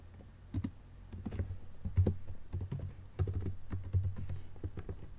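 Quiet typing on a computer keyboard during a PHP/Laravel coding session, with irregular clusters of soft key clicks spread across the whole stretch and no voice.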